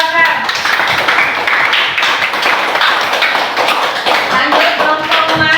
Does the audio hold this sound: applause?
yes